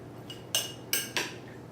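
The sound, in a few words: mixing seasoned cucumber salad with utensils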